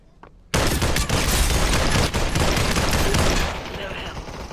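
An MP5 submachine gun fires in a sustained dense burst in the Population One VR battle royale game, loud and continuous for about three seconds before tapering into a softer roar.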